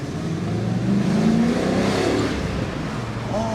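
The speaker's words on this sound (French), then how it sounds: "Oh, il est super le moteur." A BMW E34 540i V8 with 345,000 km pulls in second gear from low revs, a smooth, steady engine rise heard from inside the car.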